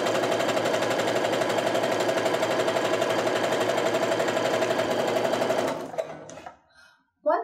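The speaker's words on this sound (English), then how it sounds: "and now just sew down the other side." A sewing machine stitches a quilt seam at a steady, fast, loud run for about six seconds, then stops, leaving a few faint handling sounds.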